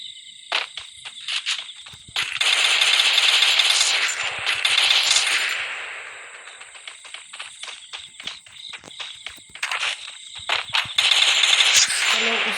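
Rapid gunfire from a shooter video game, bursts of machine-gun fire with clicky high transients over a steady insect-like whine, loud and dense in several stretches with quieter gaps between.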